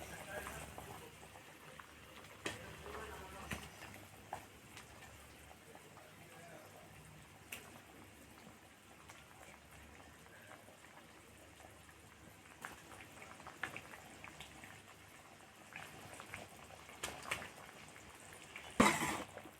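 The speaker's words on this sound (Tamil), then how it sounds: "நல்லா கொதிச்சிருச்சு பாருங்கள்." A pot of sardine fish curry bubbles and simmers quietly with soft, irregular pops and crackles, fairly faint and close, with one brief louder clatter near the end.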